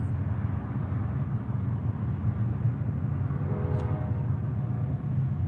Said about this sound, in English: What you're hearing is a freight train going by.